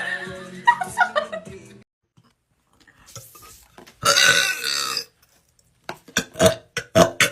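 Women burp repeatedly: a long drawn-out belch, then bursts of shorter, rougher burps in close succession, with brief chuckles and quiet gaps between them.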